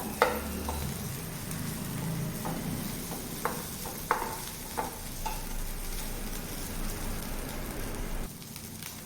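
Okra thecha roasting and being stirred in a pan, with a steady bed of sizzle and crackle and a few sharp scrapes of the spatula against the pan; no talking.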